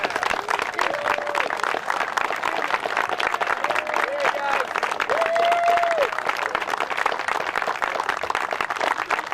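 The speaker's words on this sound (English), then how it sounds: "let's give them a round of applause" Audience applause for soccer players at a park soccer field dedication, a steady wash of clapping throughout with a few brief voices and whistle-like tones mixed in.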